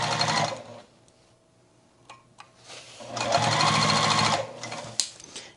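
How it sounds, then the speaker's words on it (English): A sewing machine runs in two bursts, stitching a seam through a denim bag gusset and lining, with a quiet pause and a few small clicks between the runs. "So I'm going to sew it onto this one, onto the lining gusset"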